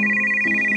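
Phone ringtone in an animated drama, a sustained electronic tone with a clear high pitch over a lower hum, heard alone and close.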